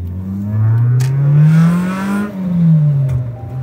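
A Toyota Levin race car engine revs up and down close by, rising and falling in pitch with a couple of sharp exhaust backfire pops cutting through the loud, nearby drone.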